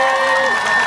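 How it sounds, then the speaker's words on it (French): A young crowd at an evening celebration of Guinean independence cheers and claps, a dense roar of voices with a steady tone running through it. "que je vous demande d'applaudir"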